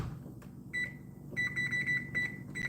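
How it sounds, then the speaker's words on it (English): A kitchen appliance beeps while breakfast is being cooked, a run of repeated high electronic beeps in short bursts, fairly close over a quiet room. "If y'all hear that beeping, hold on. I gotta turn my stuff over."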